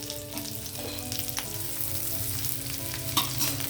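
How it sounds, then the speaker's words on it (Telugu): Chopped onion fries in ghee for cauliflower biryani, giving a steady, close sizzle that runs the whole time, with a few brief clinks and stirring scrapes and no voices. "ఆనియన్ వేసాను."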